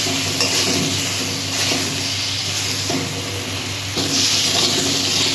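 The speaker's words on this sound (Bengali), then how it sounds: "বেগুনটা এবার ভেজে দেব।" Eggplant pieces seasoned with turmeric and salt fry in hot oil in a pan, giving a loud, steady sizzling hiss with occasional surges and faint stirring sounds.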